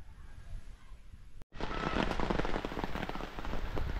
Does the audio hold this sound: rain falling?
yes